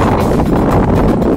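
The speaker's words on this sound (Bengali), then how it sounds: "বালির ঝড় যেটা বলে" Hot desert wind gusts across a camp in the middle of the Abu Dhabi desert at sunset, carrying sand, heard as a loud, steady, buffeting rumble with no speech.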